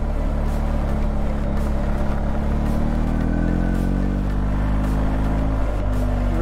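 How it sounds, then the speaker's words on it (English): A BMW R 1250 GS Adventure Rally, a 2021 motorcycle, rumbles steadily through its exhaust while being ridden, a loud, continuous engine drone with gentle rises in pitch as it pulls along. "The exhaust is loud, but not too loud."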